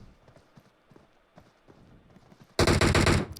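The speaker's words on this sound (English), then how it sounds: "Shots from both teams here. A lot of shots from around this area." Gunfire breaks out in a PUBG esports match on the Erangel map. Soft, rhythmic footstep-like taps come first, then a loud, sudden burst of rapid overlapping shots fills the last second.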